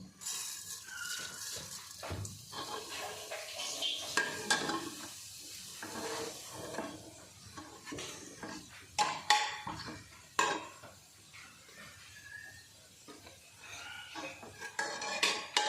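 Cumin is added to hot oil and stirred in a pan for a bottle gourd curry, with repeated spoon clanks and scrapes against metal over a faint sizzle, irregular and close, with no voices.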